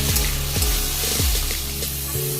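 Chopped tomatoes hit a hot pan of frying bata fish curry, giving a loud, steady sizzle with a few sharp crackles and stirring scrapes, close up with no talk.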